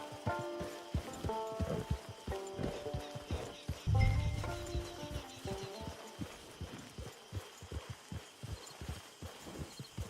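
Horse hooves clip-clop steadily in Red Dead Redemption 2, an even trotting rhythm of many hoofbeats close by, with a brief low thump partway through and no talk.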